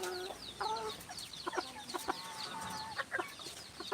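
Backyard hens cluck in short repeated bursts, fairly close but soft, with scattered higher chirps from other birds and no talking.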